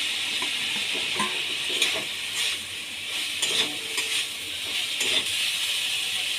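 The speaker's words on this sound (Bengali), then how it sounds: "এবার আমি ভেজে রাখা উচ্ছে আর আলুগুলো দিয়ে দেব।" Fried bitter gourd and potatoes go into a pan and sizzle with a soft, steady hiss, broken by light clinks and scrapes of stirring at close range.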